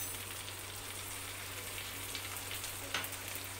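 Fish pieces with green chillies fry steadily in a pan over a low flame, a constant fine sizzle with a faint low hum and one brief sharper crackle near the end.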